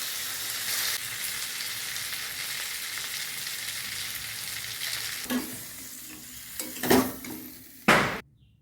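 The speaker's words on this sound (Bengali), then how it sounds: "এবার এর মধ্যে পরিমাণ মতো জল দিয়ে দিলাম, যাতে আলু আর মাথাগুলো একটু সিদ্ধ হয়ে যায়।" Water goes into a pan of frying fish heads and potatoes for a Bengali fish-head dalna. Steady close sizzling builds into several sharp bursts of hissing and splashing near the end, with pan clatter and no talk.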